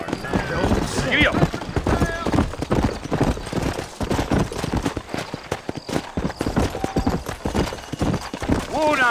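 A horse gallops in the Western video game Red Dead Redemption, with rapid clip-clop hoofbeats running under game speech and music, and a brief whinny near the end.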